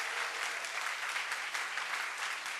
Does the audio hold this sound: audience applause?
yes